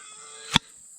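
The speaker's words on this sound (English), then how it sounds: "did you hear that vacuum seal on that?" A sharp, brief pop and hiss as the lid comes off a sealed haylage container, a single burst standing out over a steady background hum.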